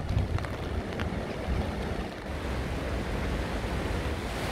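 A flooded river rushes high over its banks, a dense, steady roar that fills the whole clip with no voices.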